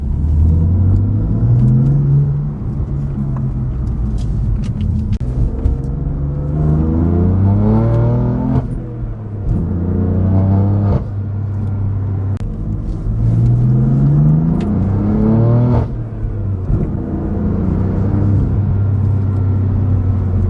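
A BMW F80 M3 engine with carbon fiber intakes drones low and steady, rising and falling in pitch through several gear changes with a muted exhaust note, valves closed in efficient mode; close and continuous.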